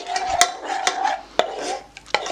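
A spoon stirs soaked gelatin in a small saucepan for a berry cake, clinking against the metal in several sharp taps between softer scraping swirls, close and clear with no talk.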